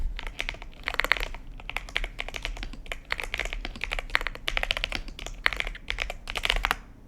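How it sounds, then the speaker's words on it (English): Rapid, steady clatter of keys on a computer keyboard, close and fairly loud, in quick bursts with short pauses and no voices. "Don't criticize my typing"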